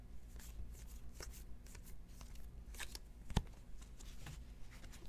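Baseball trading cards from a 2020 Donruss box are handled and shuffled in a steady run of soft riffling flicks, with one sharper tap partway through, close and fairly quiet.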